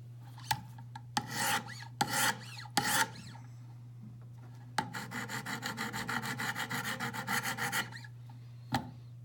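A Hinderer knife blade drawn across Wicked Edge sharpening stones: several separate short rasping strokes, then a longer run of quick back-and-forth scraping passes, close and quiet over a steady low hum.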